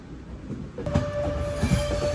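A passenger train pulling into Thiruvananthapuram North (Kochuveli) railway station, wheels squealing in a long sustained shriek over a steady rumble and clatter of rolling wagons, close and loud, with no voices.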